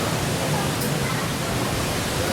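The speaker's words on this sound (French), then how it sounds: "On vient voir la cascade" A waterfall cascade on Mauritius roars as a steady, dense wash of broadband noise, continuous and fairly close, with no distinct breaks across the moment.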